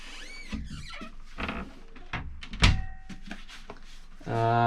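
Sliding door inside a 2024 LakeStar Grandiose 19.6-foot off-road family caravan with double bunks, heard as a few close, short thumps and rattling knocks spread through a quiet interior, ending in a louder buzzy hum.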